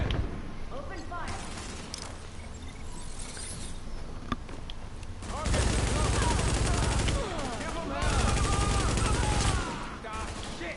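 Sustained automatic gunfire bursts in Tom Clancy's The Division, in an underground setting, with loud rapid volleys between quieter stretches under occasional game chatter and voice lines.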